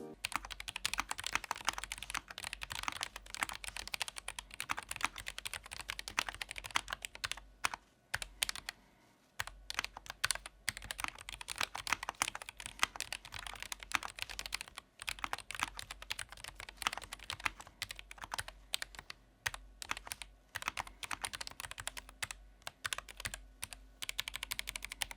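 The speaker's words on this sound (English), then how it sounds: "the main part of each mechanical keyboard review, sound test" Rapid continuous typing on an RK N80 low-profile mechanical keyboard, close and crisp, with dense clacky keystrokes and occasional brief pauses, no voices.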